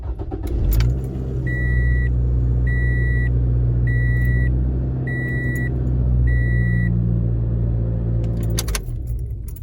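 A car engine idles with a steady low rumble after starting, close by, while a series of five evenly spaced electronic beeps sounds over it; no one speaks.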